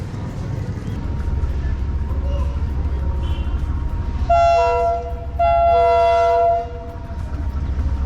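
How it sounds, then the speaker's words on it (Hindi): A passenger train rumbles steadily as it approaches Dadu railway station, its horn blasting twice in long, loud tones, with rail noise continuing underneath. "214 डाउन मोंजदड़ो पैसेंजर अप्रोच बना रही है दादू रेलवे स्टेशन"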